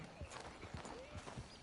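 Hooves of a horse in Red Dead Redemption 2 clip-clopping in a steady walking rhythm, several soft thuds spaced evenly, faint and low in level against a quiet outdoor background.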